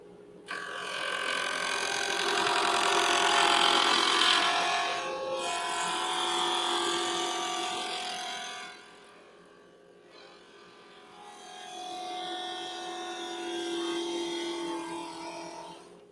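Wood lathe spinning at 2,600 RPM turning a pen blank, a steady close mechanical whine and hum that holds for several seconds, drops briefly, then returns, with no talk over it.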